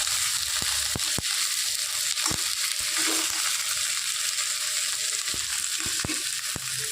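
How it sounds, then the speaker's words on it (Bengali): Okra stir-fried with onion in a pan, a steady hot sizzle broken by sharp scraping and tapping knocks of a spatula against the pan at irregular intervals, close and alone. "এবার পেঁয়াজের সাথে একটু হালকা ভাজা ভাজা করে নেবো নেড়ে নেড়ে"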